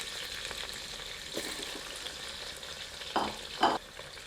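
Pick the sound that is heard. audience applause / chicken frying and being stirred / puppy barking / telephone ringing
chicken frying and being stirred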